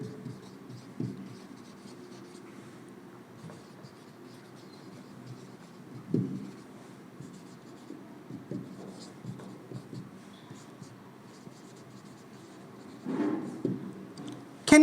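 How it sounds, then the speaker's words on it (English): Chalk or marker scratches on a board as words are written out, a steady run of soft taps and strokes with a few louder marks, heard alone without talk. "On some words I would like to write here."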